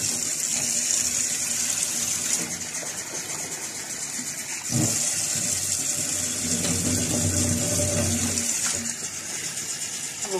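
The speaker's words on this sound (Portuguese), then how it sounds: "Vou colocar água agora aqui." Tap water running into a cooking pot of cut beetroot and carrot, a steady close rushing stream that shifts in tone partway through, with a faint engine hum in the background.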